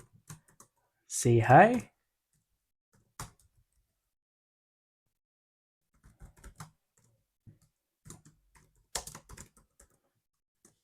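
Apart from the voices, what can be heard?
typing code on computer keyboard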